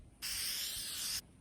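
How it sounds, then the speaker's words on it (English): A can of spray paint releases one continuous bright hiss, lasting about a second, that starts and stops abruptly against a quiet background. "I like how this spray paint like kind of runs down,"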